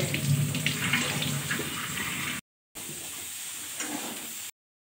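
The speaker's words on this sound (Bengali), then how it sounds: "জলটা খুলে দিয়েছি, দেখো জল যাচ্ছে।" Water runs from an opened household tap in a steady, close, hissing rush, broken by one short silence before it continues.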